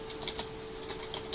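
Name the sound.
typing on a computer keyboard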